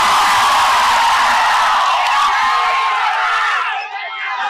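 A large crowd at a speech by a film director, with a politician present, lets out a loud, continuous roar of cheering and shouting that swells up close and then drops off sharply near the end.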